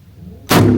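One loud, booming rifle shot from a GA Precision rifle chambered in .416 Barrett, firing a 500-grain projectile outdoors; a short quiet lead-in is followed by the sharp blast and its lingering rumble.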